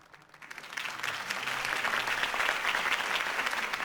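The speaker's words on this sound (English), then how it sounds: "If only Mr. Wayne, my campaign's largest backer, could have heard that applause" In Batman: The Telltale Series, a crowd at a political campaign rally breaks into steady applause that swells within the first second and holds, dense and sustained.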